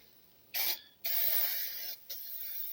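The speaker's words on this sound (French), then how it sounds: "j'ai repris une nouvelle bombe de peinture" An aerosol spray paint can applied to Peugeot 306 body panels gives three hissing bursts, one short and two longer, sharp-edged and close, with brief quiet gaps between.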